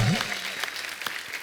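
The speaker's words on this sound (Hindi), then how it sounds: "नीति के लिए एक बार जोरदार तालियां हो जाएं।" Studio audience applause on a television comedy show, a dense, steady wash of clapping that holds for the full moment.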